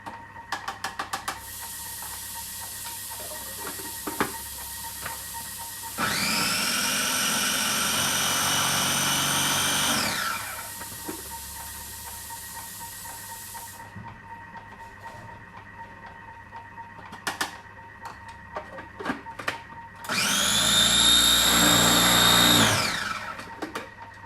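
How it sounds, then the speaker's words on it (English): Blender grinding chili and belacan for sambal belacan in a cramped home kitchen, a loud whirring run of about four seconds, then a quiet stretch with small clicks, then a second, shorter burst near the end. "blend the chili and the belacan for your sambal belacan"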